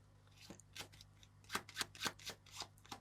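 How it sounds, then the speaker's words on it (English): A deck of playing cards is shuffled by hand in a magic trick, a quick run of soft riffling snaps and flutters, close and faint, with no talking. "Now you can shuffle the cards like this"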